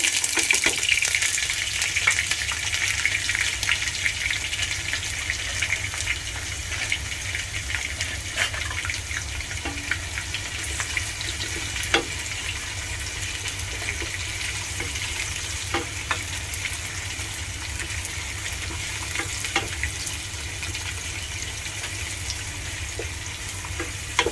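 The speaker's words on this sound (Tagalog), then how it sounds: "Ayan, mainit na siguro yung mantika. Ilagay muna natin yung onion." Onions frying in hot oil in a home kitchen for chicken adobo, a steady close sizzle and crackle with occasional stirring clinks, continuous for the whole stretch with no talk.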